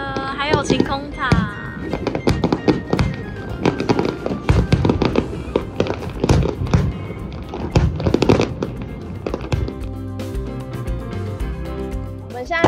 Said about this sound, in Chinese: 我们现在除了这边之外，那边也有烟火，两边一起打